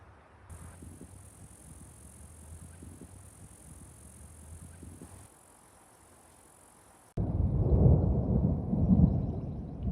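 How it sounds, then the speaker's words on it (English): Thunder from an approaching storm near a campsite by a cove, first as a low, distant rumble under a steady high hiss, then swelling into a louder, close, rolling roar near the end. "There's a storm."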